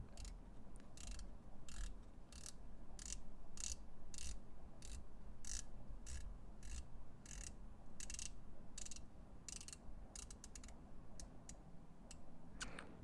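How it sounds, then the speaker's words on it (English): A Heimdallr Sea Ghost dive watch's titanium scalloped bezel is turned steadily, giving a long run of crisp, evenly spaced clicks close up, with a quick flurry near the end and no talking. "let's just check out the bezel sound"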